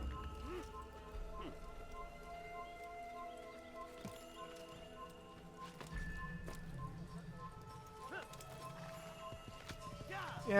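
A horse gallops in the video game Assassin's Creed, its faint hoofbeats clopping in quiet, uneven taps beneath a soft background tone, with a person talking over it.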